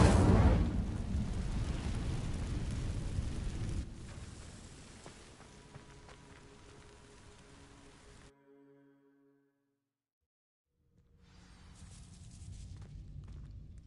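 The Incendio fire spell cast in Hogwarts Legacy: a loud roaring burst of flame that fades over several seconds into a quieter crackle, then brief silence before another rush of sound returns.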